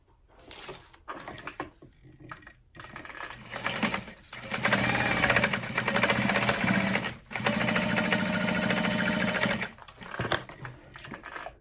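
A sewing machine stitches a handbag at a long stitch length, running in steady bursts of a few seconds each, close and fairly loud, separated by short pauses and small handling noises.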